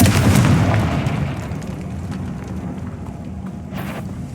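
A Confringo fire-blast spell from Hogwarts Legacy goes off as a deep, booming explosion with a rumbling tail that fades over a few seconds.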